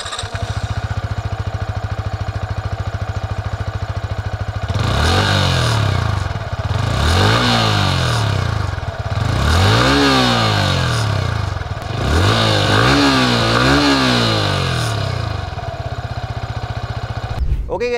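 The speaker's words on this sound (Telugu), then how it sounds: "ఈ బైక్ ఎగ్జాస్ట్ నోట్ ఎలా ఉందో ఒకసారి చూద్దాం మనం" A 2025 Yamaha MT15 motorcycle revving repeatedly from idle, its exhaust note rising and falling in four or five loud, close throttle blips over a steady idling rumble.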